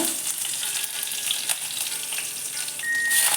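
Mustard and cumin seeds crackle and sizzle in hot oil for tempering, a busy, continuous frying hiss with faint spits and pops and no voices.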